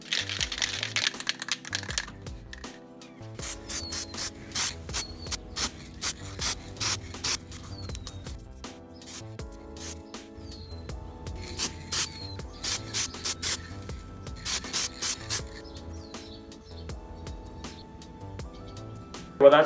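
A magic trick prop is spray painted with gold crackle or hammer paint, heard as a series of short, sharp bursts and rattles at varying intervals, mostly close and moderately loud, with quieter gaps between them.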